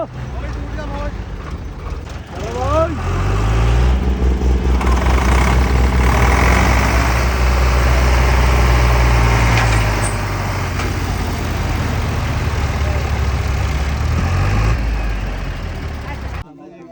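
A Mahindra or Eicher tractor engine idles close by, a loud steady low rumble that swells after a couple of seconds and holds, with people talking over it.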